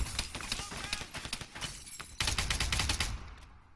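Heavy gunfire pours down on AI soldiers in ArmA, rapid overlapping bursts and cracks filling the short stretch before cutting off abruptly near the end.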